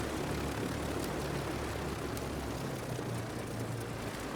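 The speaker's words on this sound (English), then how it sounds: "Now we'll just wait for the engines to run down." Engines of a Dornier Do J Wal flying boat in a flight simulator spin down after shutdown, a dense continuous broadband roar and rumble holding steady and loud throughout with no voices.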